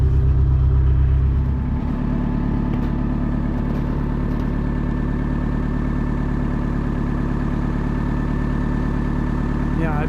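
A cold Detroit diesel engine on a P&H H312 crane idles steadily, a loud, dense low rumble with a faint knocking rhythm, slightly heavier at the start, then settling into a constant drone.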